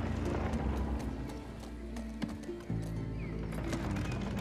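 Horse hooves clip-clopping at a gallop in The Last of Us Part II, steady and close, then a brief break as the horse is pulled to a stop before the hoofbeats and ambience carry on.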